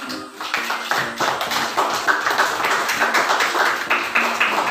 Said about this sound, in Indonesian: tepuk tangan dulu buat apa?